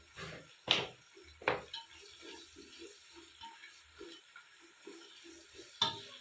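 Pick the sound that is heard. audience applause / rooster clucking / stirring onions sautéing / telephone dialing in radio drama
stirring onions sautéing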